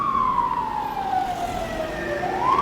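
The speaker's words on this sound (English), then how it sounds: "Sirens." A siren wails nearby on a street in Yerevan, Armenia, its pitch sliding down and then rising again over steady traffic rumble.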